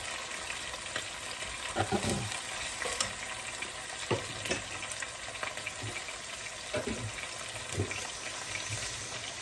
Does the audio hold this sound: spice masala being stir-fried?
yes